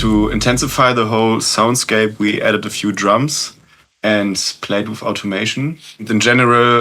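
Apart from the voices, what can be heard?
No everyday noises stand out.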